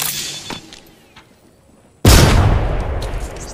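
Gunfire in the Apex Legends battle royale, a sudden loud burst of shots that erupts after a quieter stretch of scattered faint sounds and sustains dense booming fire to the end.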